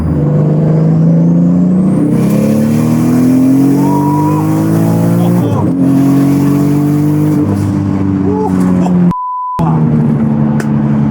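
A Toyota Supra MK IV engine pulls hard while driving, loud and close, rising through the revs in long sweeps with gear changes between them and a brief cut in sound near the end.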